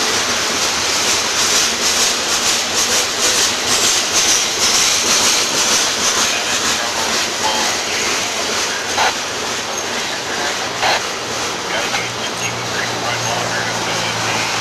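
A Norfolk Southern heritage locomotive train passes close by with a loud, continuous rumble and broadband rail noise, with wheel squeal and rhythmic clatter throughout, and a voice is faintly audible beneath it.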